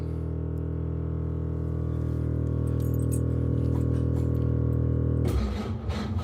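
A steady loud electric hum with a mechanical whine as an air pump fills a car's air suspension bags, ending in a burst of hissing air.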